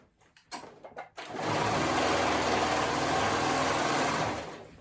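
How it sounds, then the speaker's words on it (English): A sewing machine stitches the raw top edge of a dolman dress, with a few short bumps of handling before a steady, close mechanical whirr that runs for several seconds and then eases off. "I'm going to grab it right sides together and I'm going to sew that raw edge at the top."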